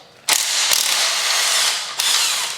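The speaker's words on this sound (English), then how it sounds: "So we'll take the 1/4 inch impact." A 1/4 inch impact wrench rattles loudly in two close bursts, the second long and sustained, while removing engine bolts from a Yamaha DT80 enduro motorcycle being parted out.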